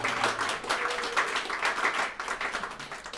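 An open mic audience welcomes a poet with a steady wash of applause, many hands clapping together at moderate volume for a few seconds.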